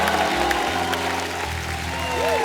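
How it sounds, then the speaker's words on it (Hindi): A studio audience on The Kapil Sharma Show claps steadily through a ghazal-themed episode, the applause blending with sustained musical tones. "एक बार जोरदार तालियां।"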